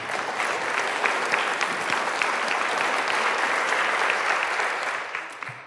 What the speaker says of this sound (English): This anticipatory applause